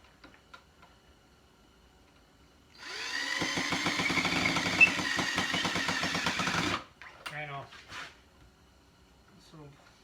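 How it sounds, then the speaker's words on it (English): A power drill drives screws into a wooden bar stool, a steady whirring burst of about four seconds with rapid ticking, then short clicks and handling noises, while someone speaks before and after. "Get the screws in. Drive them in."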